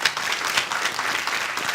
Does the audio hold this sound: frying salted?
no